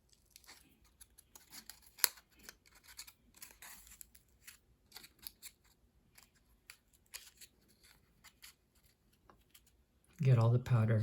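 Scissors make soft, scattered snips and crinkles while cutting open a packet of chlorine test powder, and a person starts talking near the end.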